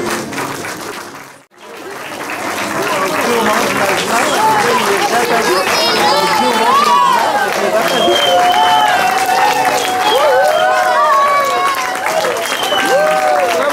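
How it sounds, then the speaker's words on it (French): After a brief silence, a live audience erupts into sustained loud clapping and cheering, with excited voices shouting over the applause throughout. "On peut les applaudir debout!"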